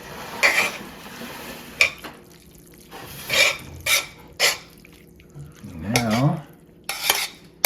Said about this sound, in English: Mix that in here.